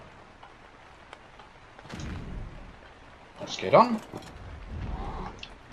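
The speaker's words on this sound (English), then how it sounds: "Why does it have to start raining and having fog?" Rain in the Ark Survival Evolved game world, a soft steady patter in the background with a few louder swells, while someone talks over it briefly.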